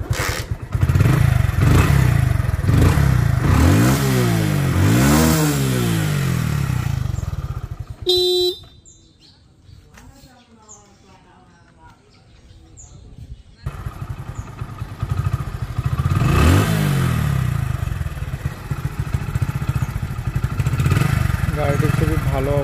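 A Hero Splendor Plus Special Edition 100cc motorcycle engine idles and revs loudly up close, with a short drop to quieter running in the middle before the engine note returns; someone talks over parts of it.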